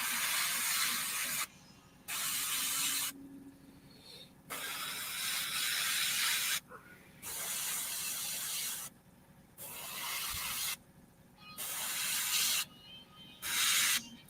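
An airbrush compressor spraying paint gives bursts of broad hissing airflow, about a second or two each, broken by short pauses, fairly close and steady.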